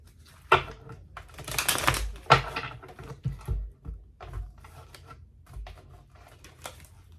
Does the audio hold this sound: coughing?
no